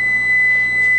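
A kitchen oven sounds a steady electronic beep on reaching its set temperature of 450 degrees while baking bagels, a sustained high tone held for the full second with a faint hum beneath.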